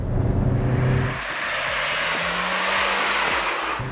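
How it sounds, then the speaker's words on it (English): A 2024 Hyundai Alcazar facelift's engine revs loudly, a deep boomy roar rising and swelling in pitch around 4000 RPM, close and continuous with no voices. "the engine gets really loud and boomy"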